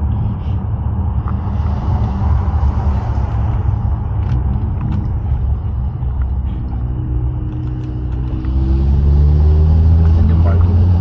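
Cars rumble steadily through an IKEA underground parking garage near Uppsala, Sweden, with a low engine drone building louder toward the end as a vehicle passes close, while people talk over it.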